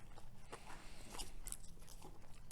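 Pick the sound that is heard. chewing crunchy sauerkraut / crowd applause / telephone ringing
chewing crunchy sauerkraut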